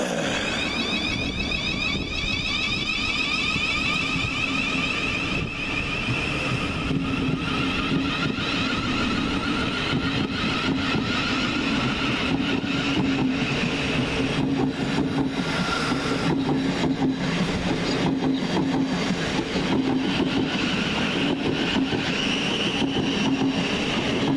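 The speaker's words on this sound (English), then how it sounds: "Next train out is 700-148, working the 1203 Govia Thameslink service from Bedford to Brighton." Class 700 Govia Thameslink electric train on a Bedford to Brighton service pulling out of Hassocks station, a steady, fairly loud rumble and whine that holds throughout, with wheel clatter and a high motor tone rising as it moves off.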